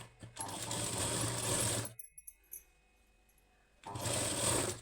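A sewing machine runs two steady bursts of stitching on a blouse frill, loud and close, with a short quiet pause of faint handling clicks between them.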